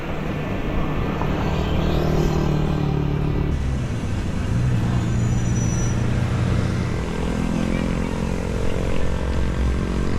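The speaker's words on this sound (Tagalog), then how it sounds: "Kukunti pa dumadaan sa sasakyan." Cars and other vehicles pass steadily on a quiet road near an intersection without a stoplight in Trece Martires, Cavite, as a continuous loud engine and tire rumble whose pitch shifts as one vehicle fades and another approaches.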